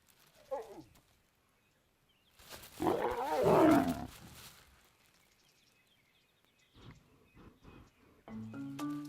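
Lions roaring in the wild bush of the Timbavati, with a loud, heavy burst of roaring in the middle, scattered calls before it and a few short grunting sounds near the end.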